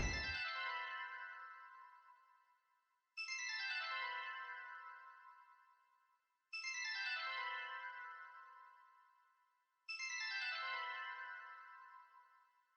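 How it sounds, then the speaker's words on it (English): A repetitive synth arpeggio of half-step notes in a dark trap sample, heard as four identical bright, ringing phrases, each struck sharply and decaying over about three seconds before the next begins, alone and fairly soft. "the finished ARP is sounding like this"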